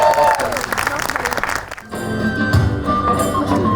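An audience at Parc Asterix applauds a band from Normandy. The clapping is loud and choppy at first, fades out, and music and voices follow.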